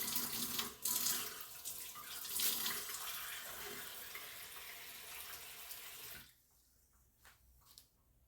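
Tap water pours steadily into a mixing bowl of melted butter for pizza dough, a broad rushing splash for about six seconds that cuts off abruptly, leaving quiet room tone with faint drips.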